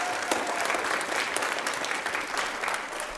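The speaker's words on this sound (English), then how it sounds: "I want to make sure that I give Blake Conley a round of applause" A school audience at a middle school new-student preview evening gives a steady, dense round of applause that fills the room evenly from start to finish.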